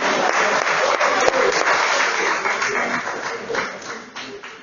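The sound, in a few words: congregation applauding people from the 1950s generation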